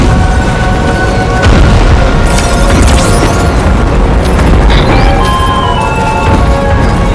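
Chiral cinders striking the ground in the video game Death Stranding 2, a loud continuous rumbling barrage of booms and crashes with scattered sharper bursts, heavy and dense throughout.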